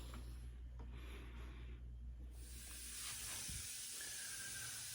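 Spray gun applying a first coat of clear paint to a 1940 Ford, heard as a steady airy hiss that swells louder partway through over a low hum of background machinery.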